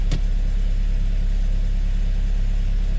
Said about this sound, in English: You'll notice the noise from the tensioner gets louder when I'm in gear versus when I'm in neutral or park.